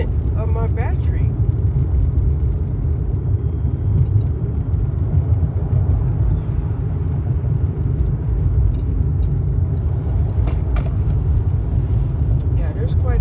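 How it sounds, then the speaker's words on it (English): A car defroster blows steadily inside a car cabin on a cold morning, a continuous low whooshing rumble mixed with engine and road hum, loud and unbroken throughout. "I just turned it on the defroster"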